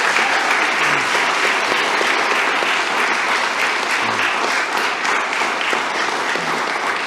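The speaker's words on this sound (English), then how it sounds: "Let's clap it up for Uncle C." Loud, sustained applause from a crowd at a city council meeting, steady clapping that fills the whole stretch without pause.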